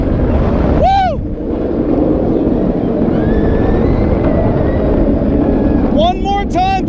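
Riding the Bizarro floorless roller coaster at Six Flags Great Adventure in New Jersey, loud wind roar and track rumble run throughout, with riders whooping and shouting near the start and end.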